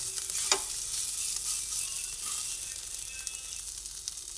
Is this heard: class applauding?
no